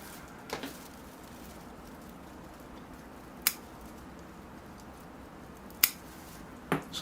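Pruning shears cut a branch from an Austrian pine bonsai, giving a few sharp, isolated snips spaced several seconds apart over a quiet room background, with no talking.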